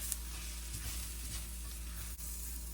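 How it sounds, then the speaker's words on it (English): Flour stirred into vegetables in a pan for elk stroganoff: soft, quiet sizzle with light scraping stirs, steady and close. "And I'm just going to sprinkle that in. Give it a stir."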